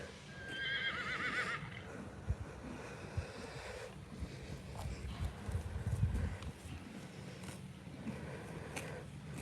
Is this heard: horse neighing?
yes